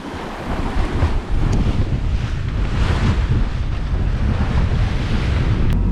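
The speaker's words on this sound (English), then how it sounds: "Now we have the wind on the beam and the waves on the beam." Wind and waves batter a sailboat motor sailing across the Kattegat at sea, with beam wind and beam seas. A loud, continuous roar of wind and surf rushes steadily throughout, with no voices.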